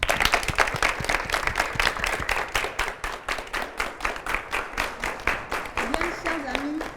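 A studio audience on a televised youth debate show applauding, with loud, rhythmic clapping pulsing in quick repeated bursts for several seconds and some voices mixed in.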